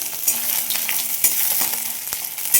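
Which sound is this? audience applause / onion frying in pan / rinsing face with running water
onion frying in pan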